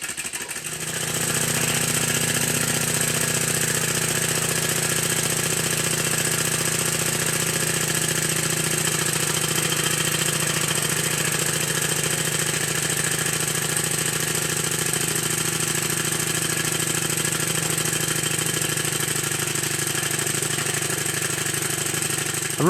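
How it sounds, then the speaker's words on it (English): A rebuilt Stuart 10V steam engine runs on a workshop steam plant fed by a boiler. It gives a steady, continuous mechanical hum with layered tones, even and unchanging, at moderate level with no talking. "While I was running this engine"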